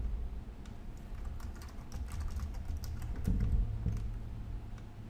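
A password is typed on a computer keyboard in quick, steady keystrokes, close and clear throughout with no voices.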